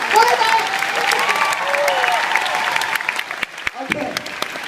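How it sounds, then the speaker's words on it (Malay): A crowd at a diamond recognition night claps after the host asks for it, a broad sustained patter of applause with a few voices calling out above it and tapering near the end. "Kasih saya tepukan, boleh tak?"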